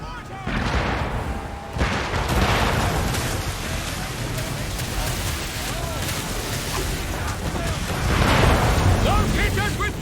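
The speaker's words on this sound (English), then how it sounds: "Mortars!" Mortar fire and explosions in Assassin's Creed 3 during a naval battle: dense, continuous booming blasts and rumbling gunfire that swell near the end, with shouted voices mixed in.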